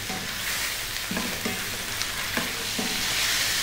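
Chicken breast pieces with salt sizzle and fry steadily over lively heat in a pan, with a continuous crackle and a few stirring scrapes. No voices.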